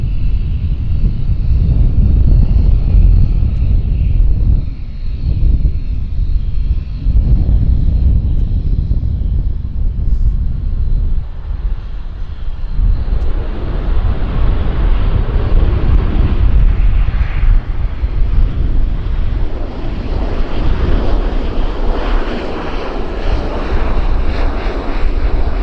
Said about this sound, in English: Westjet inbound from Terrace, British Columbia.